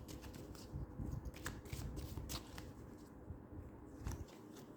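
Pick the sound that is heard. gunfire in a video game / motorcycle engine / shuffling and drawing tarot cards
shuffling and drawing tarot cards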